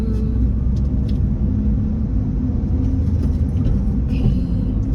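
A car cruises along a highway, with steady low road rumble and engine drone continuing throughout, heard from inside the vehicle.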